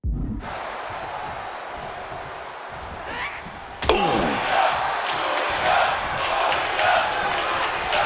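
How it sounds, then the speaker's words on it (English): In the WWE 2K26 wrestling video game, a forearm strike lands with a sudden heavy thud against the turnbuckles, one sharp impact midway followed by roaring arena crowd noise that swells and stays loud. "Did you hear that thud?"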